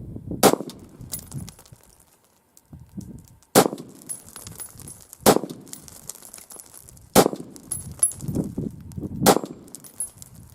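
Five sharp pistol shots from a handgun fitted with a stabilizing brace, fired one-handed, ring out loud and close at irregular intervals of a few seconds, each followed by a brief echoing decay and faint background rustle.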